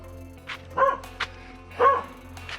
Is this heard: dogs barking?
yes